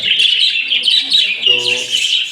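Pet budgies chirp and tweet continuously in a cage, a busy close-up chatter of high calls, with a brief lower harmonic squawk partway through.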